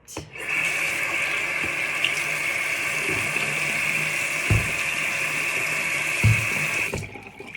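Water runs steadily from a tap into a sink during handwashing with antibacterial soap, a continuous close hiss and splash with a couple of soft knocks, ending abruptly as the flow stops; no speech.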